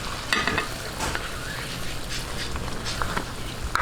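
Marinade poured into chicken sizzling in a pan with Sprite, a steady close frying hiss with occasional small splashes and stirring taps, no talk.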